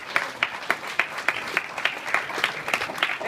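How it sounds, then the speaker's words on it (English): A convention audience claps in a steady rhythm, with sharp, evenly spaced bursts of applause a little over three per second, moderately loud and close, with no talking. "Give yourself a round of applause."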